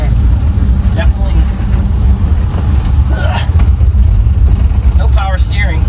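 A Volkswagen with a swapped-in Porsche engine drives along, its low, fairly quiet engine drone and road rumble steady throughout, with people talking over it.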